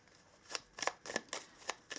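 Whispering Woods oracle cards are shuffled by hand in a quiet room, making a soft series of about six quick riffling swishes spaced evenly over a couple of seconds.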